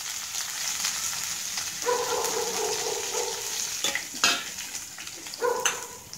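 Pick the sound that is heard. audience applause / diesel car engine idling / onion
onion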